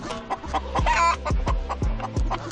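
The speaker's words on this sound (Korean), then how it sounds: "알을 낳고 있는 암탉은 불안한 듯 소리를 지르기 시작한다" A hen laying eggs clucks anxiously in a series of loud, close, rhythmic squawks and clucks, about five or six sharp calls in quick succession.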